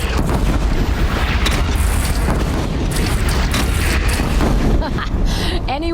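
Loud, heavy cannon booms in the Horizon Zero Dawn video game, firing over a dense roar of battle noise that continues for the whole stretch.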